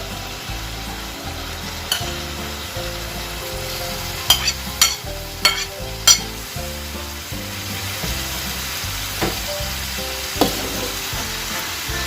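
Radish being stirred and sautéed in a pan, a steady sizzle running under repeated scraping strokes of a utensil and a few sharper knocks against the pan, with no talk.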